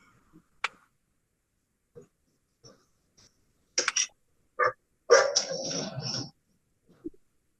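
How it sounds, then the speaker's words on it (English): Dogs barking near a car during a delivery: scattered short barks with quiet gaps, then a louder, longer burst of barking, fairly close, with no talk. "Dogs."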